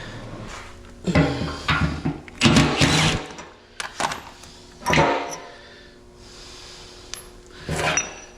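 Socket wrench ratcheting on bolts while repairing a 4x4 foot scale. Several short bursts of metallic clicking come at irregular intervals, separated by quieter gaps of workshop noise.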